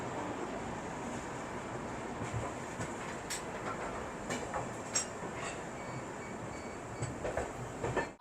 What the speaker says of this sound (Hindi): तो अपनी ट्रेन बिल्कुल ऑन टाइम निकल चुकी है अजमेर रेलवे